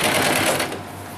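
Sewing machine stitching a double-layer net fabric doll dress, a fast steady whirring run that slows and softens partway through, heard close and alone.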